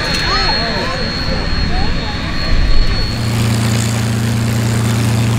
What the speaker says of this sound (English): just put your hands together for Riley Payne and for Dave Salter for that great demonstration in the T6 / Harvard